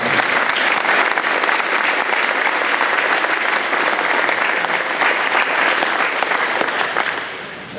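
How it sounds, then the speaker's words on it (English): Loud, dense applause fills a track team awards night as the crowd claps for the meet volunteers, sustained and even before tapering off at the very end. "please give all those volunteers a round of applause"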